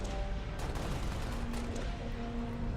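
DMR rifle fire in Halo: Reach, a dense burst of sharp shots and impacts packed close together over a loud, steady game soundscape.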